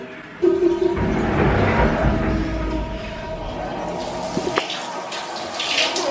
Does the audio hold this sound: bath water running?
yes